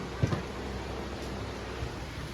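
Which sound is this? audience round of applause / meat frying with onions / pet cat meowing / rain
rain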